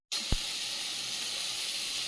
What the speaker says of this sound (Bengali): মাছটা একদিকে ভাজা হচ্ছে